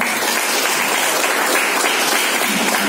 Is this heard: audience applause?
yes